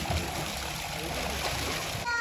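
Water splashes and sloshes steadily as a mother swims at a farm house, a close, continuous churning wash with faint voices in the background.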